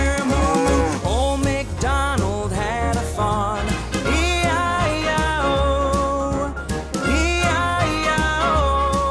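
Sung nursery-rhyme music for babies with a bouncy beat, where a voice imitates a cow's moo in repeated, pitched calls over the accompaniment.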